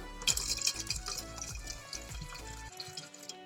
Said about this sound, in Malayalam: ഇനി കുറച്ച് വെള്ളം ഒഴിച്ചു കൊടുക്കുക.